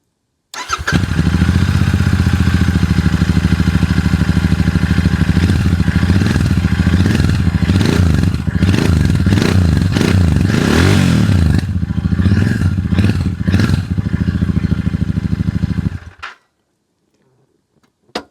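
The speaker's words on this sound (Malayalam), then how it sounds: "നല്ല മുഴക്കമുള്ള സൗണ്ടാണ് ഈ സൂപ്പർ മെറ്റിയോറിന് വരുന്നത്" A Royal Enfield Super Meteor 650 cruiser motorcycle starts up close to the exhaust, settling into a loud, deep, throbbing idle with several rising and falling revs, then shuts off abruptly into silence.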